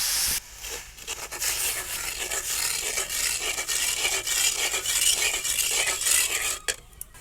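Water poured into a bowl of sugar in a pan to start a syrup for bread gulab jamun gives a steady broadband splashing and stirring rush, fairly loud and continuous for about six and a half seconds before tapering off.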